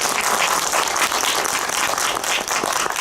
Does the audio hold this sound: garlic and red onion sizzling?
no